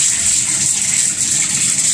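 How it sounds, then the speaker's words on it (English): Hot tap water pours loudly and steadily down a tub drain, a close, continuous gushing rush without a break and without any talking. "So as you can see, the water's running down in there, and it's moving real, real fast."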